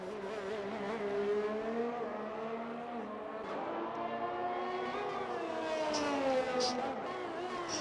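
Race cars lapping a track in a sim racing game on soft compound tyres, engine notes rising and falling continuously and loudly, with a commentator talking over them throughout.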